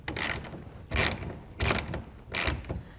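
Wrenches tighten the bolts of a roll-up soft tonneau cover on a pickup bed, giving four loud, close bursts of ratcheting, clicking metal spaced roughly evenly apart, with no talking.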